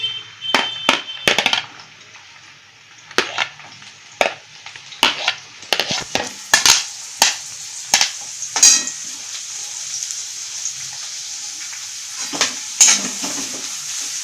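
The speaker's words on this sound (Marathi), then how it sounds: "तेल तापले, कांदा टाकून घ्यायचा." Chopped onion frying in hot oil over a high gas flame, a steady close sizzle with frequent sharp spoon scrapes and stirring clatters, for a Marathi dried mackerel chutney.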